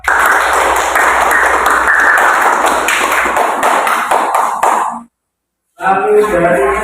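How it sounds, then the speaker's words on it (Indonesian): Classroom group applauding a student team, dense clapping for about five seconds, then a brief pause before voices and scattered claps resume. "beri tepuk tangan kepada kelompok 2"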